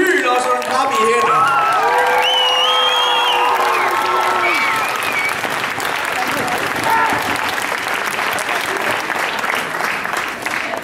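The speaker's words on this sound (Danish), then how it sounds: "skal det ikke have et ordentligt hyl og sådan en klap i hænder?" A large crowd at a Danish community sing-along evening claps loudly and cheers, with whoops and children's shouts rising over sustained applause, while voices call out through the din.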